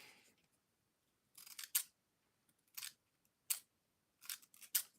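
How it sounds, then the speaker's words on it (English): Household scissors snip through craft supplies, giving about six sharp, close cutting strokes in irregular bursts with quiet pauses between, no talking. "These are like the only scissors I have handy right now."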